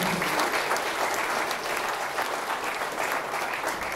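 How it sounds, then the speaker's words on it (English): Sustained audience applause after a talk on sports analytics and STEM, a dense, steady wash of many hands clapping at even loudness throughout, with no one speaking over it. "How about another round of applause for John?"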